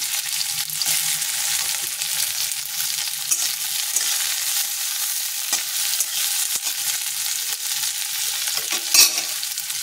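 Diced onions fry in a pan with whole garlic, giving a continuous mid-level sizzle alongside scattered scraping taps of a spatula stirring.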